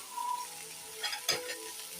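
Raw plantain slices sautéing in hot oil in a pan for a South Indian poriyal, a steady soft sizzle with a few brief stirring scrapes, close and alone without talk.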